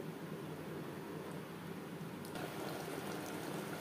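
Mutton and onions cooking in a pan over a high-to-medium flame, giving a steady, soft, continuous sizzle with no talking.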